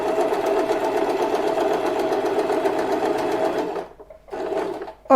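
Close and loud, a sewing machine stitches fabric for Laddu Gopal bedding in a steady whirring run that pauses briefly near the end as the cloth is turned, then starts up again.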